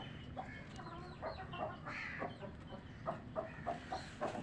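Domestic home-bred chickens cluck in short, irregular bursts close by, with soft murmuring between calls and no talking over them.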